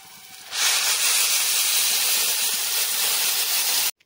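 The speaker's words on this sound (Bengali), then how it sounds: "এই সময় আমি দিয়ে দেব গরম জল।" Hot water poured into a pot of rice and lentils cooking for khichdi, giving a loud, steady hiss and sizzle that starts abruptly and holds for several seconds before cutting off.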